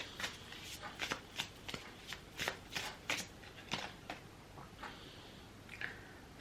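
A new deck of oracle cards is shuffled by hand in repeated crisp riffling bursts, close and clear, in an irregular rhythm of sharp slaps with short pauses between.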